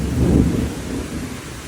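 A summer thunderstorm with a brief deep roll of thunder over steady rain, loud at first and then easing into a fading rumble.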